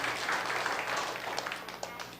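A church congregation at a Sunday Mandarin service claps to welcome a first-time visitor who has stood up. The applause is a dense, steady patter that slowly fades over a couple of seconds.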